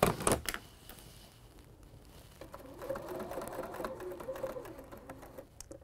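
A sewing machine stitches quilting fabric for a table runner, a soft, even mechanical whirr in the second half after a few sharp handling clicks.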